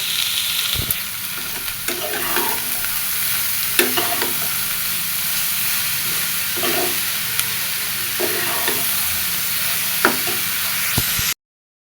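Washed, cut bottle gourd sizzles steadily in a frying pan while a utensil stirs it, giving a constant hiss broken by repeated scraping knocks at irregular intervals, close and loud.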